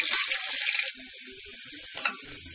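Onions and masala frying in a pan give a soft crackling sizzle, brighter at first and then steadier, with a few sharper pops near the end.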